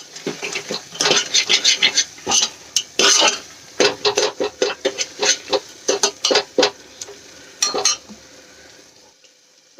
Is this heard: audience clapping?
no